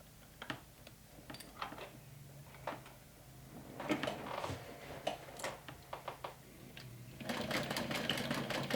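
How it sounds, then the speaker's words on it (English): Sewing machine stitching around the edge of a small fabric mini backpack, short uneven bursts of needle chatter and handling clicks building to a sustained run near the end. "I'm going to stitch all around."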